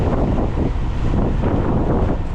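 Loud, steady wind buffets the microphone while riding a Teverun Blade GT2 electric scooter at speed, a dense rumbling roar that pulses slightly and carries no talk.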